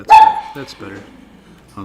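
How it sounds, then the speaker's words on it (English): A dog barks indoors in a short loud burst at the start, with a person talking over and after it. "if you hear my dog bark, he's yelling at the outside"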